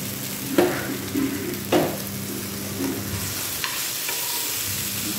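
Sago pearls being stirred in a frying pan with a spoon, several distinct scraping strokes over a steady low sizzle, fairly close and with no talking.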